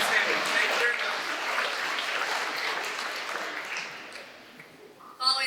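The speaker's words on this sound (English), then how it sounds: "Give yourself a round of applause." New students at a convocation ceremony give themselves a round of applause, a broad, sustained wash of many clapping hands that slowly fades before a voice comes in at the end.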